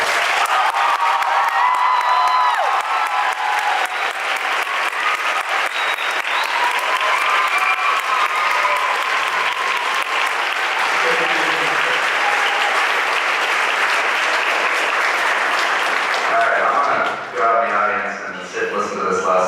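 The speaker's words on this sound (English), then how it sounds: "so please give them a great round of applause." Sustained applause from an audience at a school senior awards ceremony, a dense wash of clapping filling the room for most of the clip before it thins and fades near the end.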